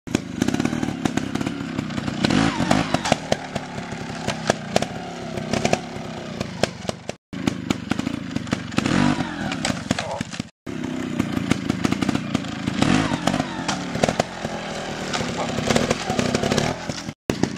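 A dirt motorcycle engine revs hard and raspy while riding over a log with the clutch out, a loud near continuous drone with fluctuating throttle and brief cutouts.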